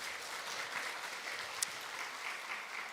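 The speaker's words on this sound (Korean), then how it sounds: "우리 박수 한번 부탁드리겠습니다" A church congregation applauds at a Sunday morning service, steady and fairly faint clapping with no break.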